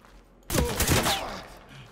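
Gunfire in Ready or Not, a sudden loud burst of rapid shots that starts abruptly after a quiet moment and fades out over about a second.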